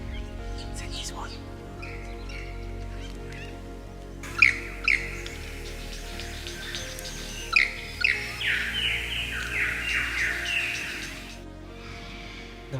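Varied chirps, tweets and warbling phrases from a nearby young male bird learning to sing come in uneven bursts, some scratchy and rambling, over a low background hum.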